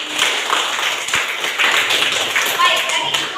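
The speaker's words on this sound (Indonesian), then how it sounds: "Oke, tepuk tangan." Students in a classroom clapping together, a steady patter of many hands at moderate distance lasting a few seconds with faint voices beneath.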